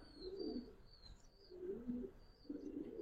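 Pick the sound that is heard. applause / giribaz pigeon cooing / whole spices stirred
giribaz pigeon cooing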